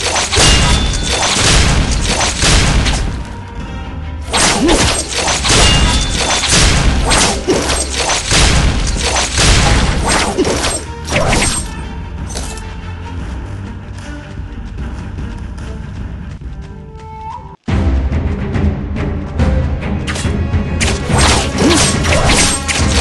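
Martial arts combat in the kung fu MMO Age of Wushu: loud, dense overt-attack strikes crash and thwack in rapid succession with whooshing swings, over continuous game music, then a brief cut before the clashes resume.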